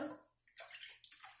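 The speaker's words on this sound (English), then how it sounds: "A little bit more water." Water splashing and gurgling into a shaving lather bowl while Proraso, Palmolive and Cremo cream is whipped up with a brush, a brief close pour with a dip in the middle, fairly soft.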